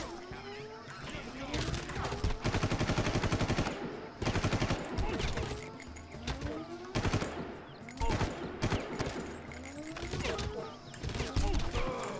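An enemy machine gunner in Far Cry 1 on PC fires in loud, rapid bursts that start and stop repeatedly, with harsh clattering impacts between volleys and a voice speaking at moments.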